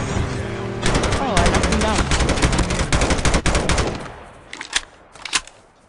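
Gunfire in the mobile shooter Call of Duty Mobile: loud, dense bursts of rapid automatic fire, up close, thinning into a few separate shots near the end.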